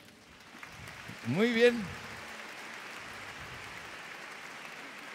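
Soft, distant applause from an audience at a symphonic-catechetical celebration concert in Soria, a faint steady patter of clapping under a man's brief spoken words near the start.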